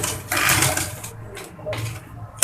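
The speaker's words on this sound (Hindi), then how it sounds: "ये देखिए फ्रेंड्स, इसके नीचे रखते हैं हम सिलाई स्टार्ट कर देते हैं।" A home sewing machine runs in bursts while stitching a fabric surgical face mask, its steady mechanical whir starting and stopping with short pauses between runs, close and moderately loud.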